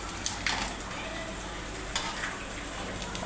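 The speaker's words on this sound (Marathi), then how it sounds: "बघा तेल गरम झाले, बारीक गॅस करते" Hot oil sizzling steadily in a pan over low gas as a rice papad fries, a soft continuous hiss with a few sharper crackles and light utensil clinks, fairly quiet and close.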